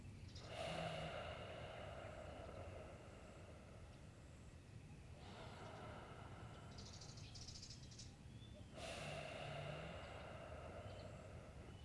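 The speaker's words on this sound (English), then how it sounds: "Breathe in. Breathe out." Slow, steady breathing during a qigong exercise, with long drawn breaths rising and falling in a calm rhythm across several cycles, faint and close, with no talking.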